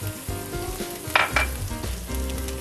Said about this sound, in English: I'm going to caramelize these right in the same pan.